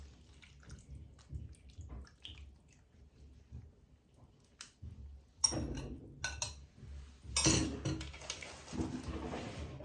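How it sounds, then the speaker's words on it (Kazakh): Gravy poured over cutlets in a pan, soft liquid splashing and squelching that comes in bursts and grows louder toward the end. "Осыны енді котлетіміздің бетіне айнан құйып шығамыз."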